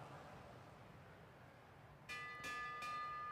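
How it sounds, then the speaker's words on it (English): A bell rings for the final lap of a bike race. Three quick, ringing strikes come near the end, heard over a steady background roar from the track. "Here comes the bell."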